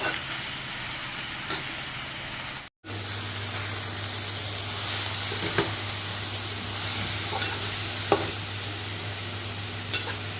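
Tomato curry cooks in a covered pan with a soft, even sizzle and bubbling, a low steady hum under it and a few faint knocks, after a brief silent gap near the start.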